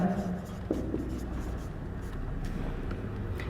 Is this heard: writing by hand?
yes